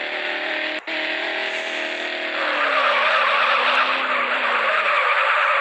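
A car drifts in the mobile game MadOut2, its tyres letting out a long, loud skidding squeal over a droning engine, broken by one brief dropout early on before the squeal swells and holds.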